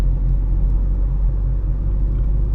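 A 2009 Hyundai i30 engine vibrates and rumbles at low road speed below 40 km/h, a steady, loud, low drone with a slight shudder running throughout, no voices.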